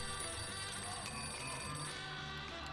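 Telephone ringing inside the Mafia 2 video game, a steady electronic bell tone repeating over game music and ambience, fairly faint and continuous for a few seconds with no talking.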